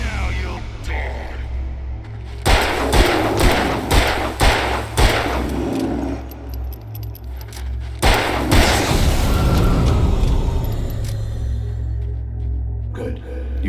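Gunfire in the Alan Wake video game: loud, sharp reports in two bursts, the first a rapid string of shots followed by echoing booms and a lingering rumble beneath.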